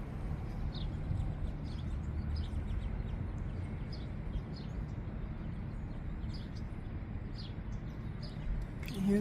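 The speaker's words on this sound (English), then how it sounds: "You hear the birds living in them." Small birds living in desert palm trees give faint, scattered chirps high above a heavy, constant roar of strong wind.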